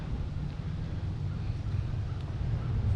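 Gusting wind buffets an outdoor microphone with a constant low rumble that swells slightly toward the end, no other clear sounds.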